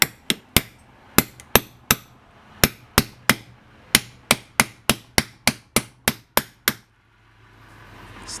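Hammer tapping a 19mm socket to seat a part on a Toro Recycler self-propelled mower, about twenty sharp metallic taps in a fairly steady rhythm that quicken near the end, close and loud with no talk.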